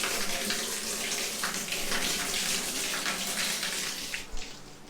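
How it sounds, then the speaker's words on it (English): An open-air outdoor shower at a Maldives overwater villa pours like a waterfall, a steady, close, even rush of falling water that runs alone throughout. "Here we can take a shower in the open air and the shower is like a waterfall."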